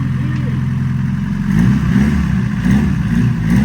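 Engine of an EK turbo project car running as the car starts rolling, a low steady rumble with a slight rise in the middle, with people talking over it.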